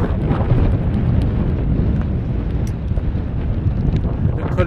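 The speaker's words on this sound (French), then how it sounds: "Comme vous l'entendez, il y a beaucoup de vent." Strong, gusty wind on the Col de la Seigne mountain pass at about 2,500 metres on the Tour du Mont Blanc buffets the microphone with a heavy low rumble that stays loud throughout, with no voices.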